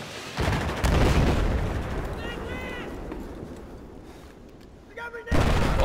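Weapon fire in the Battlefield 4 video game: loud, dense bursts of shooting at the start and again at the very end, with a voice talking through the quieter stretch in between.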